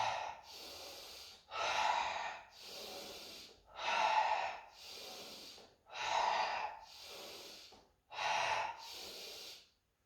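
Deep rhythmic breathing during a standing spinal warm-up exercise, about five slow cycles of loud, near inhales and exhales with brief pauses between, no talking.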